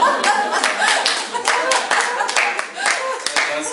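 Audience clapping at a sales talk, a lively patter of many hands close by, steady for several seconds with voices mixed in underneath.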